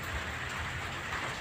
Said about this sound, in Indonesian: Suasana sudah sore tapi hujan belum juga berhenti